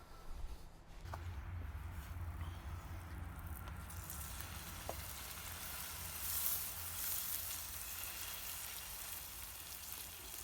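Onions frying in a pan on full heat to turn golden, giving a steady, even sizzle with a faint crackle throughout and one or two small clicks, fairly quiet with no voices.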